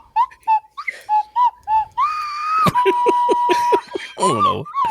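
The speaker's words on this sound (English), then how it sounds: "Do it with the slide whistle, Kevin." A slide whistle glides up and down in quick, bright tones, with short whoops, then a sustained rising note, close and loud, alongside chuckling and laughter.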